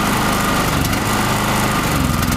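Gas-fuelled portable generator engine running steadily and loud up close, with a rough, slightly choking rich-mixture note as the throttle and revs are adjusted; no talking over it.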